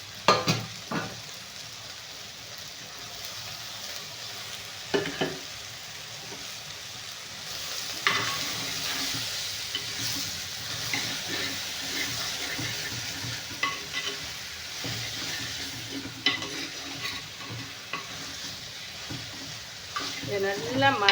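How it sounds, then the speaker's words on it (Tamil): Tomatoes and salt sizzle in a frying pan while a spoon stirs them, steady close frying hiss throughout with irregular scraping and clacking strokes, no one speaking. "தக்காளி போட்டு உப்பு போட்டு நல்லா கிண்டி விட்டு"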